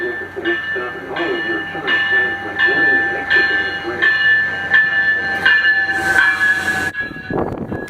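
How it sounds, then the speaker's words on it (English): An electronic ECU rail bell on a Utah FrontRunner commuter cab car rings repeatedly at a steady, quick rhythm over a rumbling train engine, ending with a burst of hissing air. "Cab Car 103 received an ECU rail bell instead of the usual Transtronic E-bell"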